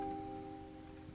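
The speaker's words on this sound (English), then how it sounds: "Is that like rain, I think?" Soft, steady rain-like hiss sits quietly under sustained electronic tones, a nature ambience layered into an electronic music track.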